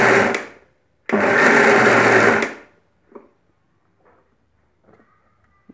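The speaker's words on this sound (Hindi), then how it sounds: "ये हम इसमें मिक्स करेंगे और मिक्सी में एक बार फिर से बैटर को" A mixer grinder churns cake batter flavoured with vanilla essence: a brief whir, then a loud, steady blending roar lasting over a second before it stops, followed by faint kitchen clatter.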